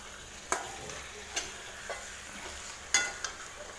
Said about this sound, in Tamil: இப்போ இது கூட நம்ம ஊற வச்சுருக்கிற சிக்கன் இதில் ஆட் பண்ணிக்கலாம். சேர்த்துட்டு இதை நல்லா மிக்ஸ் பண்ணி விடுங்க.